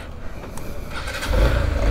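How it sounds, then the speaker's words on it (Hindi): A motorbike engine starting on a street, its low rumble building partway through and then running steadily and fairly loud up close. "चलो भाई वह तो भाई चलते हैं, बाइक स्टार्ट करते हैं।"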